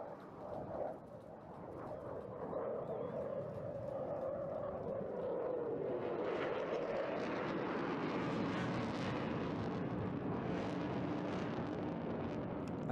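A jet climbs away at a virtual air show, its engine roar swelling from a distant rumble into a loud, broad, sustained rush that holds steady to the end, with no talk over it.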